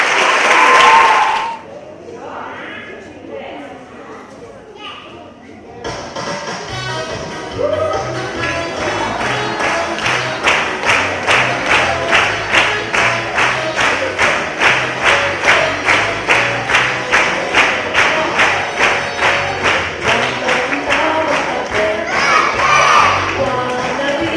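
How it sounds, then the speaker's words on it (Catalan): Audience at a school Christmas festival applauds and cheers the youngest pupils, with children shouting; a loud burst of clapping gives way to steady rhythmic clapping in time that carries on for many seconds, loud and close. "Un aplaudiment pels alumnes d'I3!"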